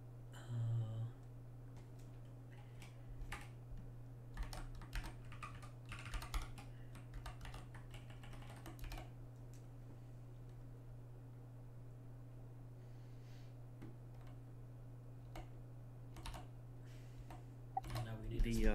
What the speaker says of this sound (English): I upgraded my keyboard and I'm not sure I like it?